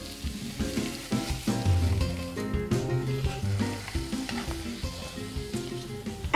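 Seabream fish cooking in its own juices in a pan over very low heat, a steady soft sizzle and crackle with occasional stirring and utensil clatter, close and without talk.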